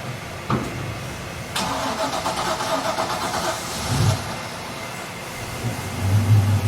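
A MerCruiser 350 MAG MPI boat engine cranks and catches, then settles into a steady mid-pitched running rumble, close by.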